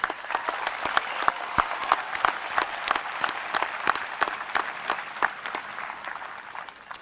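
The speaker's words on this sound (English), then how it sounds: "Can we please give everyone a big round of applause?" An audience at a high school graduation ceremony claps steadily, a crowd of many hands with distinct sharp claps rising out of the wash, holding for several seconds and fading slightly toward the end.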